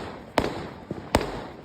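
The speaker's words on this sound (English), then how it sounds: "It's fireworks." Fireworks burst on bonfire night in Beverley, three sharp booming bangs spaced irregularly over a low outdoor hiss, two loud and one softer, heard from some distance.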